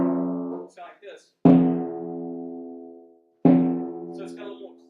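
Two pitched drums are struck with soft mallets, each a clear ringing boom that decays slowly, spaced about two seconds apart, with brief talking before the first stroke.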